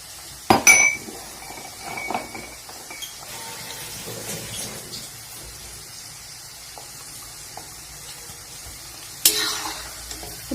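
Garlic added to a pan fries with a soft sizzle, opened and closed by clinks of a metal spoon against the vessel, with no talking.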